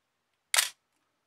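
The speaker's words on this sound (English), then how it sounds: "See that the shutter works in this case." A Nikon FG-20 35mm film camera fires its shutter once, a single crisp, close mechanical click-clack standing alone in otherwise quiet surroundings.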